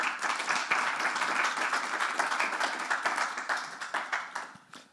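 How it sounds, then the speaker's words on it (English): Audience at a COP27 climate policy side event breaking into applause, brisk and fairly loud clapping from many people that holds steady, then thins out and fades at the end. "Let's provide some applause."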